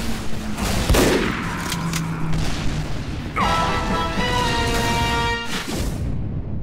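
Gunfire and heavy impacts in Team Fortress 2 during the Scream Fortress Halloween event, with a sharp blast near the start and a dense, ringing burst of shots and effects midway, loud and close.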